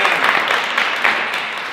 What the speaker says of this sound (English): I want us all to give a round of applause to